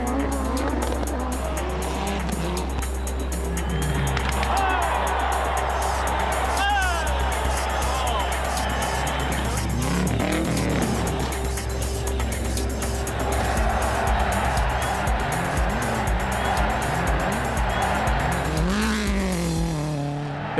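Rally cars race together on a super special stage at Rally Argentina in 1998, with engines revving and whining past under continuous commentary, a crowd and tyre noise audible in the mix.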